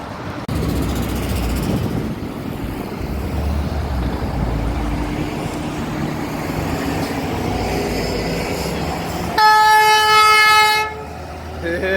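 Hadley H290A air horn on a British Industries box truck blasts loud and steady for about a second and a half near the end, following a long stretch of nearby traffic rumble on an Ohio roadside.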